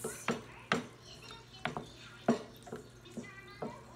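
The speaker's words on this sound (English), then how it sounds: "we're going to let it simmer a little bit while I keep mixing" Spoon scraping and clinking against a pot while stirring a simmering keto lasagna sauce, irregular knocks every half second or so over a low steady hum.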